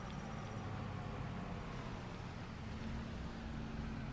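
A car engine in the Farming Simulator 22 video game gives off a steady, even drone with a broad rushing texture, heard alone with no talking.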